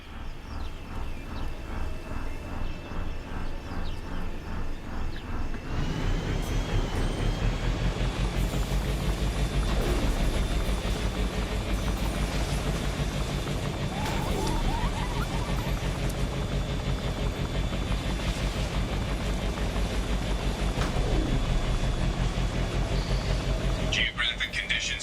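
A hovering vehicle in Mass Effect 2 holds a steady, loud engine drone with a low rumble and a higher whine, starting in earnest after a few seconds and running continuously, with game voices and ambient effects layered on top.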